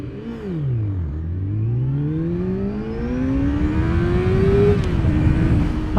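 A 600cc sportbike launching from a standstill with the revs held: the engine note dips, then climbs steadily through first gear in a loud, continuous rising whine, close by with no talk.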